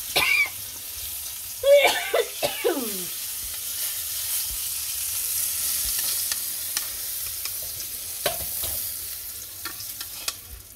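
Koi fish frying in oil in a home kitchen, a continuous crackling sizzle with sharp spatula scrapes and clinks; a brief cough or throat-clearing and faint voice sounds come early, then frying carries on steadily.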